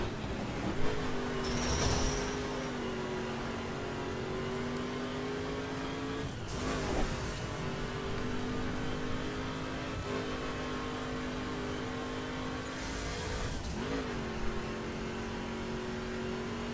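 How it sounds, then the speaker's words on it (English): The V8 engine of a 2011 Ford Mustang GT in the video game The Crew rumbles steadily with harmonic drone, rising in pitch on revs at a few points, then settling back, continuous and close. "Pretty decent V8 sound"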